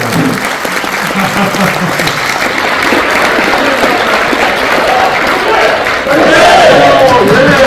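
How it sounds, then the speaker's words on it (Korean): A large crowd at a 40th-anniversary ceremony bursts into sustained loud applause mixed with cheers and shouts, swelling louder near the end while an announcer's voice carries over it. "다시 한번 박수"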